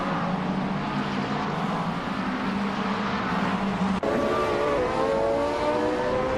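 Track-only hypercars racing around the Marina Bay Street Circuit in a racing video game, with steady engine drone and whine, a sudden shift to higher revving partway through, moderately loud and continuous.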